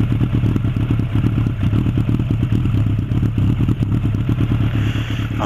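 A Suzuki GSX 750 Inazuma cafe racer idles loudly and close, its four-cylinder engine giving a steady throbbing rumble with slight mechanical clatter, running alone without speech.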